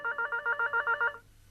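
A room telephone rings in a burst of about nine rapid, evenly spaced electronic trills that stop after roughly a second, fairly close and alone, with no voices.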